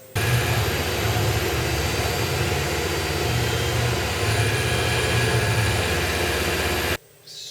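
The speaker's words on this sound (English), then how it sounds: "I'm going to throw my chamfer mill back in, because it's going to chamfer both every single hole and all these rectangular pockets and everything" A CNC mill chamfers holes and rectangular pockets with a chamfer mill, giving a loud, steady machining whine and spindle drone with coolant hiss that runs evenly before stopping abruptly near the end.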